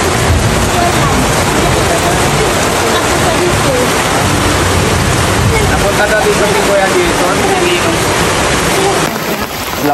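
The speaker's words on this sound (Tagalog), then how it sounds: "Nabot na po kami ng malakas na ulan dito," Heavy rain pours down in a dense, constant roar, loud and close, with a voice speaking faintly beneath the downpour.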